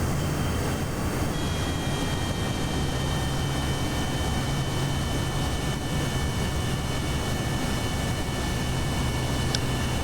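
An aircraft in Kerbal Space Program flies in to land, its engine droning steadily and loudly throughout with a sustained whine and no speech.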